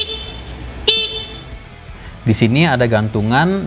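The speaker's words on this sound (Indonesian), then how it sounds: "di sampingnya ada tombol klakson yang suaranya seperti ini" An electric Volta 401 scooter's horn gives a short toot partway through. Someone speaks before the toot and talks over the rest of the stretch.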